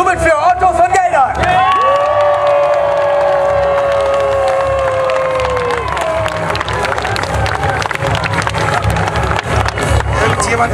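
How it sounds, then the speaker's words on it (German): Crowd cheering for a rider at a knight tournament at a castle festival, loud sustained cheers and shouts with a long held call near the start and voices throughout. "Jubel für unseren Reiter! Jubel für Otto von Geldern!"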